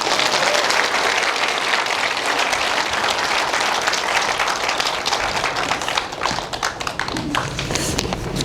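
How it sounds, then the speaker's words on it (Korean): Dense, sustained audience applause fills a live jazz-and-philosophy lecture concert session for a citizens' university, many hands clapping steadily and loudly throughout with no voices, thinning slightly toward the end. "박수 한번 쳐주세요."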